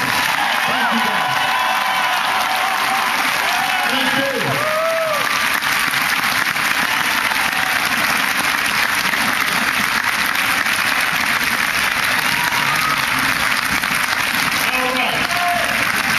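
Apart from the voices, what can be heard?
crowd applauding campaign organizers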